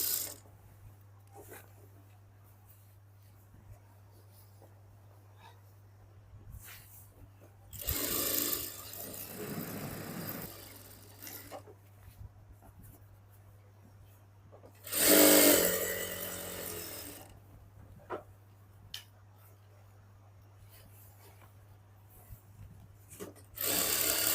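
A sewing machine stitches seams on a simple salwar in two loud bursts, each a few seconds long, separated by quieter stretches with a steady low hum and small handling noises.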